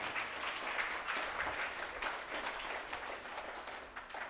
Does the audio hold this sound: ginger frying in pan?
no